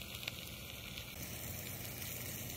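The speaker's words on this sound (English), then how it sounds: "while that bacon is frying up" Bacon frying in a pan inside a cargo trailer camper, a faint, steady sizzle with small crackles, no talking.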